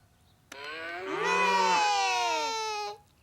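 A toy cow moo plays once, a drawn-out synthetic lowing tone that bends in pitch, loud and clear against near silence.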